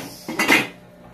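Chunks of taro root drop into a cooking pot with pork ribs, giving a short clatter of pieces knocking against the metal pot for about half a second. A quieter kitchen background follows, and nobody speaks.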